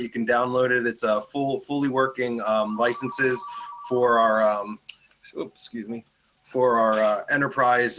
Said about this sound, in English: So sorry about the phone ring.